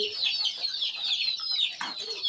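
Native chickens and guinea fowl cluck steadily throughout at a poultry shop, a dense flock of high chattering calls with no talk.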